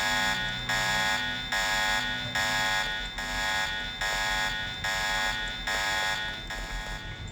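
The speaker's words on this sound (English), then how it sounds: "Yeah, it sets off the alarm, but at this point it doesn't matter." An alarm in the Deus Ex video game rings in regular pulses, about ten evenly spaced bursts of a harsh, loud tone over a low background hum.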